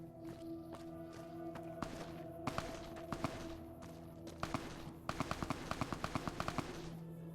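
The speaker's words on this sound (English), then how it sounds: "Oh my morons are shooting at that" Companions firing at an enemy in the video game Fallout New Vegas, scattered bursts of sharp rapid gunshots over a steady game hum, getting denser toward the end, faint overall.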